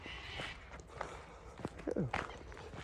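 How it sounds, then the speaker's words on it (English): Feet stomp on freshly driven-over gravel during an outdoor walk, with a few crunching steps, some faint and some closer and louder. "Nothing but the sound of my feet stomping on freshly driven over gravel."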